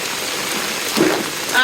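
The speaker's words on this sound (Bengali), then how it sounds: "বাবা রে বাবা বৃষ্টি রে ভাই" Heavy rain pours steadily, a dense close hiss of drops on surfaces lasting the whole moment, with a faint voice briefly heard beneath it.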